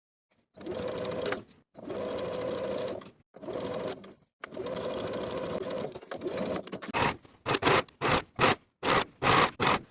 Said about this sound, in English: Sew your sleeve into the armhole with a 3/8 inch seam allowance, finish the raw edges together